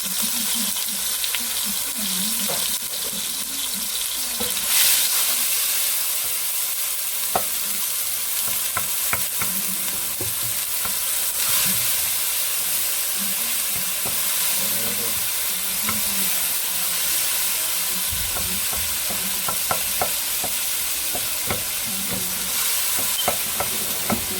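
Tomato frying in very hot oil, a loud, dense, unbroken sizzle with occasional pops and scraping stirs, close up and steady throughout.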